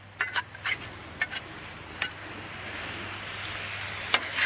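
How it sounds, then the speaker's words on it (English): Beef stir fry with ginger, garlic, vegetables and sauce sizzling on a griddle over high burners, a steady frying hiss broken by a few sharp clicks of a spatula early on. "Listen to that sizzle."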